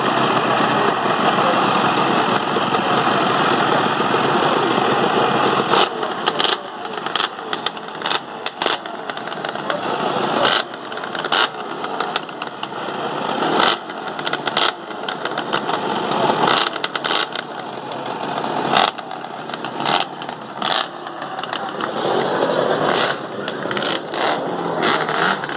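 Several two-stroke motorcycle engines idle nearby at the Ace Cafe, a raspy, uneven chatter with sharp blips of revving breaking through the steady drone.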